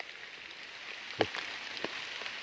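Heavy rain in a forest, a steady broadband hiss of falling drops with a few sharper close drip impacts standing out, no voices.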